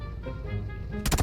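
Gunfire in the mobile battle-royale game PUBG Mobile: a short burst of sharp, loud shots near the end, following a stretch of muffled background game noise.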